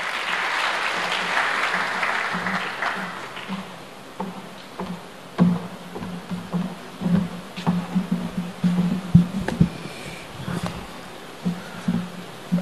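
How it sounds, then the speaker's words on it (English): Audience applause for speaker Simon Shayo at an Africa Day lecture, a dense burst of clapping that fades after a few seconds into scattered claps and room noise. "As he comes, let's give him a round of applause"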